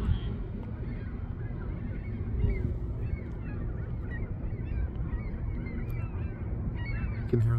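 Geese honk repeatedly at a distance over a Walmart Supercenter parking lot during a total solar eclipse, scattered calls under steady low outdoor rumble with occasional nearby voices.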